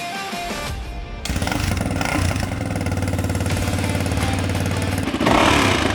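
A 1995 Honda XR250R motorcycle, just rebuilt, runs close by with a steady engine drone and clattery harmonics, getting a little louder partway through as if revved slightly, then a brief louder burst near the end.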